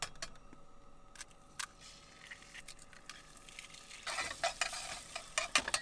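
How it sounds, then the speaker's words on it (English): Eggs being scrambled in a pan at a forest campsite for breakfast burritos, faint sizzling beneath quiet scraping and stirring taps that grow busier and louder toward the end. "We're scrambling our eggs the lazy way."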